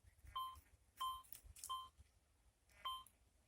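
A Rutus Alter 71 or Fortuna M3 metal detector gives several short, faint tonal beeps at irregular intervals, a borderline signal with unstable VDI, wavering and unsteady, with no talking.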